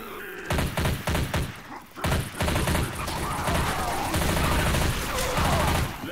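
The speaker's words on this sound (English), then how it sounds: "Shooting each other now." Gunfire in the video game Left 4 Dead 2 on a Counter-Strike map, rapid bursts of loud shots with brief pauses, then a dense continuous volley of weapon fire.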